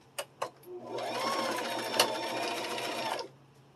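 A sewing machine runs a short back stitch on fabric for a kitchen project, starting after two quick clicks and whirring steadily for about two and a half seconds, close and loud with no talk.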